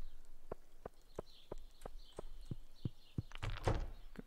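Horse hooves in the video game Stardew Valley tap out a steady, evenly spaced clip-clop at moderate volume, ending in a louder, brief scuffling burst.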